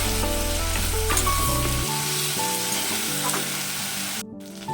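Potato, onion and a ginger, cumin and chili paste with red chili powder stir-fry in a hot pan, giving a loud, continuous sizzle with occasional stirring clatter and no voices.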